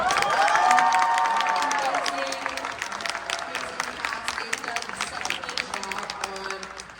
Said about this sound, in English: can we get a huge round of applause for everyone here?